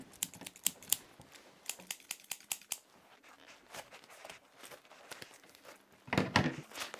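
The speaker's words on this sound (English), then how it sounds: "I can't open it with my bare hands, so I had to resort to scissors" Scissors snip and crunch through packing tape on a package from China, a run of sharp close clicks and cuts followed by a louder rustling burst at the end.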